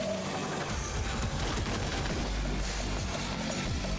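Dante's twin pistols, Ebony and Ivory, fire in Devil May Cry, a dense run of rapid gunshots and impacts blurring into a continuous clatter at steady loudness, with no pauses between bursts.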